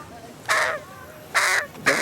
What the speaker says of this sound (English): Got ourselves a crow.